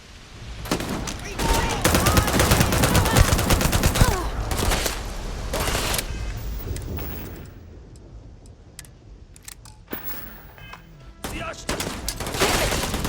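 Rapid bursts of gunfire from a firefight in the space role-playing game Starfield, loud and dense volleys that ease off midway and return, with game voices and effects mixed in.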